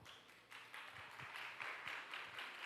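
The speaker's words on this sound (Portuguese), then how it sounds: "Palmas para a nossa estação dos jogos, gente." Children and adults at a Christian vacation Bible school clap for the games station. The faint, distant claps fall into a steady rhythm and swell slightly toward the end, with no voices over them.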